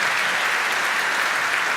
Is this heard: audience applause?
yes